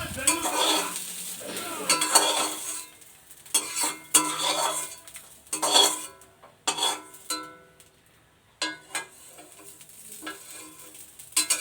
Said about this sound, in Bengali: এখন চিনিটা দিয়ে একটু নাড়াচাড়া করে তারপরে এই যে গ্যাসটা বন্ধ করে দিলাম